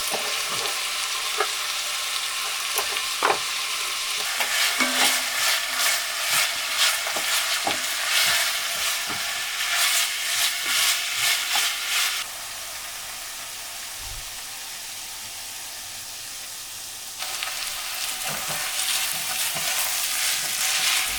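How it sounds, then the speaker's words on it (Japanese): Aromatic vegetables for minestrone, cooked after pancetta and garlic, sauté with a continuous close sizzle and repeated stirring scrapes; the hiss drops quieter for a few seconds before rising again, with no speech. "最初に香味野菜などを優しく炒めます。"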